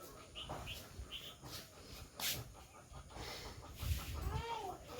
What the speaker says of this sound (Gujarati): અમારા કુકડા પણ છે